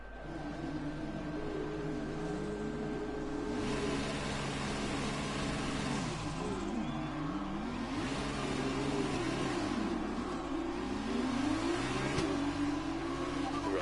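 A race car in a racing video game at Abu Dhabi holds a steady, loud engine note from start to finish, with the pitch rising and falling through the gears on a warm-up lap. No one talks.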